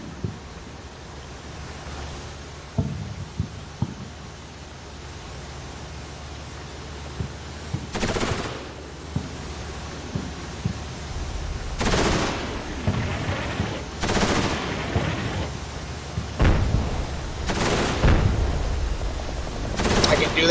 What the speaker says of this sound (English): the mortars are landing on the heavy machine gun position right now